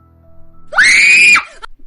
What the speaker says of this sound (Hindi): मैंने जोर से चीख मारी